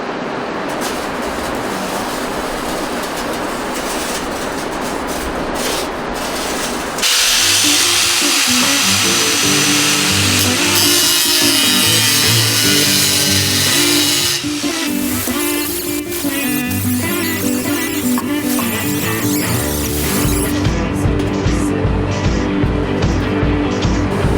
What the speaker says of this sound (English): So I need to get in there and grind it out of it.